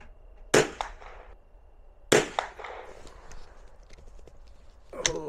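Vintage ammunition fired from a gun: two sharp, loud cracks about a second and a half apart, each trailing off in echo, with a third rougher burst near the end.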